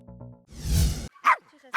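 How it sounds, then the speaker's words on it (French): A five-year-old Shetland sheepdog gives a few sharp barks at a competition, loud and close, with short gaps between them and a bit of other sound early on. "un berger des Shetland de 5 ans"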